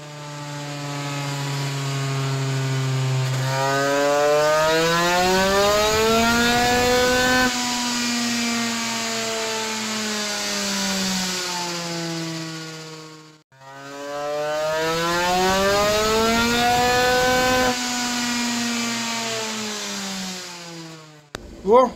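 A 100cc two-stroke scooter engine with a Stage6 or 2Fast cylinder, jetting being leaned out on a test run, revs up in two long loud sustained pulls with rising buzzing pitch, dropping off briefly between them.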